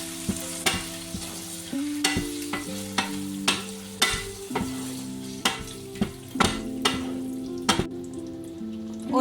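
Canned tomatoes being stirred in a pan for a lasagna meat sauce: a low sizzle broken by repeated sharp spoon scrapes and clicks at an uneven pace, over background music.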